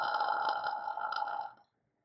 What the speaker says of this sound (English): Vocal fry is the lowest of the four registers,